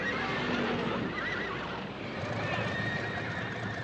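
Several horses, Lipizzaner stallions of a riding school, neigh and whinny amid a steady stable din, with hooves clip-clopping in the background over continuous noise.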